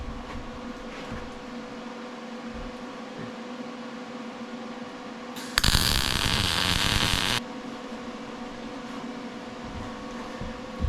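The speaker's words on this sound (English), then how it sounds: "Just tack welding it." Tack welding on an International 4700 truck: a short, loud burst of crackling, hissing arc noise lasting about two seconds, set against a steady shop hum before and after.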